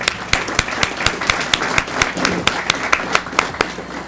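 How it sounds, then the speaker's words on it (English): An audience claps briefly in a meeting room, giving a steady patter of individual claps at moderate volume for a few seconds. "Julie's the only person who can get applause without even people knowing why they're actually applauding for Julie."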